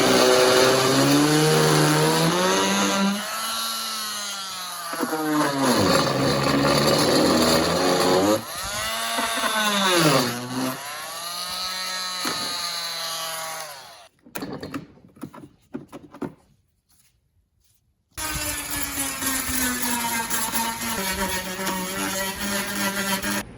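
A Dremel rotary tool cutting holes in a 3D printed plastic light pod for a Subaru BRZ: a loud, high, whining tool that rises and falls in pitch in long passes, pauses for a stretch of faint clicks and handling, then resumes.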